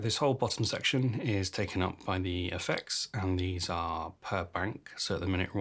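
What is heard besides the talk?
None of the usual background noises is heard.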